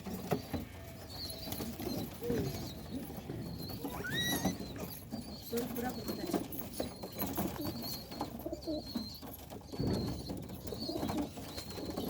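Racing pigeons coo steadily at close range in a loft, soft repeated throaty calls overlapping with light rustling and fluttering, no voices present.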